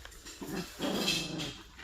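A dog pants close by, then lets out a low, throaty growl that swells briefly before fading back to breathing.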